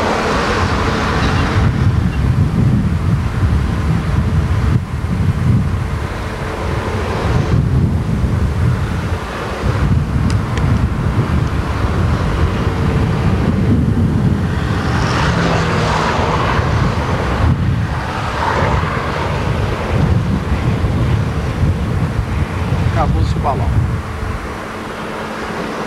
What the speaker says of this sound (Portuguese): Ter uma ideia do vento.